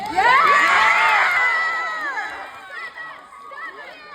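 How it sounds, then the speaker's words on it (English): A meetup audience erupts in loud, sustained cheering and excited shouting, many voices whooping together before the roar gradually tapers off. "I think they're all cheering for Purple Face to host"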